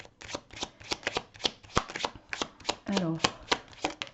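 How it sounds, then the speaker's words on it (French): Tarot cards are shuffled and laid out in quick, crisp slaps and riffles close to the microphone, a steady run of sharp card snaps, with someone speaking briefly partway through. "l'as d'épée, dites donc, ami Verseau"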